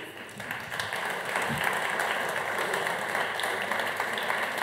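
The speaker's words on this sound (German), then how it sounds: "Applaus" Audience applause greets a guest professor arriving for a panel discussion at a forum on democracy and digital media, a steady wash of clapping that holds throughout with a faint voice buried in it.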